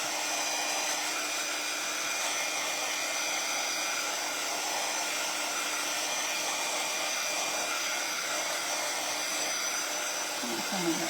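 A hair dryer blows on a green winter-themed birdhouse, giving a loud, steady, continuous whirring rush that runs unbroken from start to finish with no talking.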